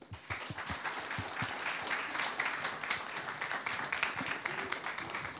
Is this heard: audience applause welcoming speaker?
yes